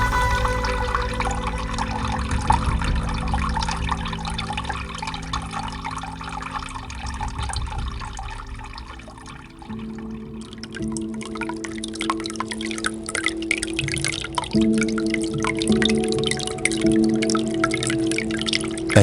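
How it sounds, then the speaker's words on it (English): Water gurgles and trickles steadily in a small diorama aquarium styled after a Japanese mountain scene, a continuous close burble with drips and splashy flow that shifts in tone partway through. "with a gentle breeze and the sound of gurgling water flowing quietly"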